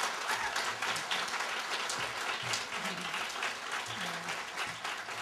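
After a speech, an audience gives a steady, dense round of applause that stays strong for several seconds, with faint voices murmuring beneath.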